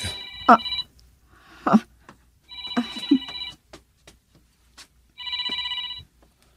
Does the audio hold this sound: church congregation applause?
no